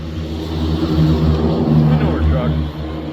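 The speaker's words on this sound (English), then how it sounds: "Manure truck." A manure truck drives by outdoors, a steady, loud engine rumble with strong low harmonics lasting the whole moment, close and continuous.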